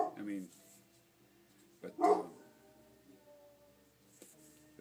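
A dog barks outdoors, heard as a couple of short bursts at a distance, with a person talking nearby.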